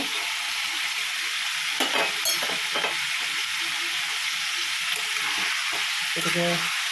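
Pieces of chicken fry in hot oil in a pan, giving a steady, close crackling sizzle with a few sharper pops and stirring clatters. No one speaks.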